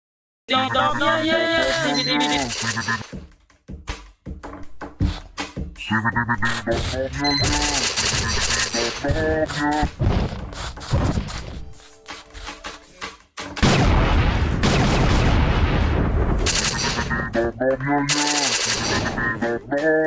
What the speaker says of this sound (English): The big sentry fires his guns at the boxes and the supreme box.